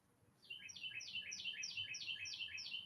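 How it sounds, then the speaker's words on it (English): Songbird singing outdoors, a rapid repeated series of bright high chirps in a steady rhythm, fairly close and clear over faint background noise, with no talking. "Do you hear this beautiful bird?"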